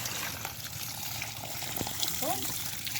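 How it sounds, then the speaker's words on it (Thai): Water is poured over ant eggs onto a cloth while they are rinsed and strained, a steady trickling pour running under occasional nearby talk. "เทใส่ครับเทใส่ผ้า"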